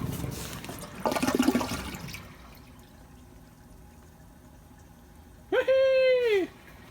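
A toilet in an 1870 house restoration flushes with a short, close rush of water at the start, then fades to quiet, and a brief voiced exclamation follows.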